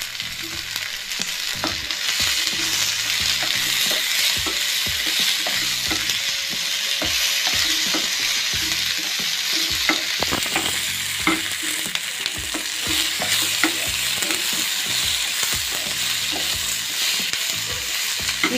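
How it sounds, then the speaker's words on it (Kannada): Tomato and onion fry in a pan with a loud, steady sizzle and dense, constant spatula stirring and scraping up close. "ಈ ಟೊಮ್ಯಾಟೊ ಮತ್ತೆ ಈರುಳ್ಳಿ ಸ್ವಲ್ಪ ಮೆತ್ತಗಾಗೋ ತನಕ ನಾವು ಫ್ರೈ ಮಾಡಿದ್ರೆ ಸಾಕು"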